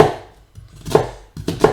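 A knife chops a white onion on a cutting board in a few close, sharp strokes separated by short pauses, with no talk.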